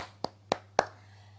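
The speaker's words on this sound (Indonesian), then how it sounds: "Tepuk tangan untuk anak-anak hebat" Three sharp hand claps ring out evenly spaced, close and distinct, over a faint steady hum. No voices are heard.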